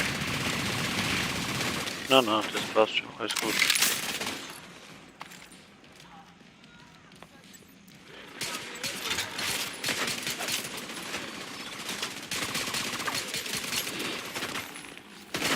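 Rapid bursts of gunfire from a Striker weapon in a video game crackle loud and close in clustered volleys, with quieter pauses between, as someone talks over the shooting.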